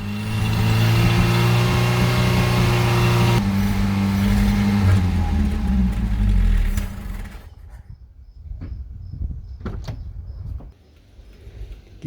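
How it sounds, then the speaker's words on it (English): An old 1986 Honda Civic CRX HF engine, long unused and not yet warmed up, runs rough and loud with a low harmonic rumble, then cuts out, leaving scattered clicks and clunks. "I expect that once the engine warms up that it will fall into idle"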